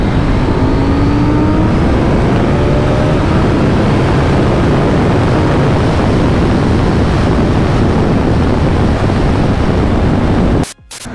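A KTM 790 motorcycle riding along the road, its engine drone buried in steady, loud wind rush that holds throughout before cutting off abruptly at the very end.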